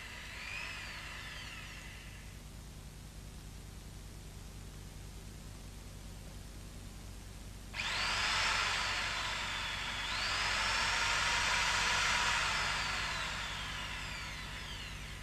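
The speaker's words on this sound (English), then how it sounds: "The bottom 2 must be drilled out in order to remove the window guide." Power drill boring out the lower rivets that hold the window guide rail to the C-pillar of a BMW E30 convertible, heard as a brief whine early on, then a loud, sustained drilling whine that rises and dips in pitch as the bit bites, with no talk.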